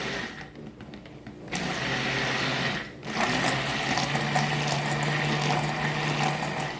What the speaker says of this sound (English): And now we're going to go ahead and lightly blend this together.